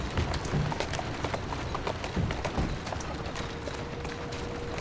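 Horse hooves clip-clop in the Assassin's Creed Syndicate video game, a string of fairly close, uneven hoofbeats over a steady ambient background, louder at first and then easing off.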